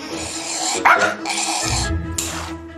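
A small dog barks sharply a couple of times over a busy background with music, the yaps close and fairly loud.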